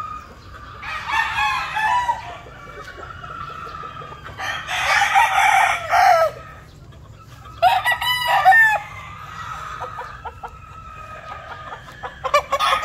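An SBR game fowl rooster crows loudly and close by, three long crows spaced several seconds apart, with soft clucking and a brief start of another crow at the end.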